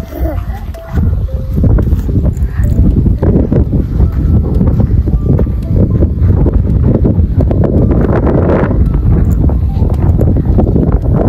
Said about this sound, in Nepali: अनि यहाँ कस्तो हावा चल्छ, यस्तो छ हाम्रो चाहिँ गाउँ